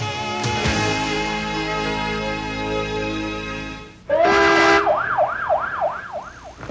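An emergency siren wails loud and close at the start of a 4th of July parade in Austin, a long steady tone giving way to a rising and falling cycling wail over street noise.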